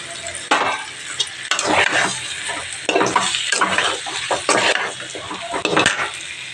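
Soaked ground spice paste goes into a pan with a sharp, loud sizzle, and the frying hiss rises and falls in bursts as a utensil repeatedly stirs and scrapes against the metal pan, close up with no voices.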